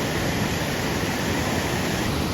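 A small waterfall at Jalpari Point in Mainpat flows with a close, loud and unbroken rushing hiss, steady throughout with no voices.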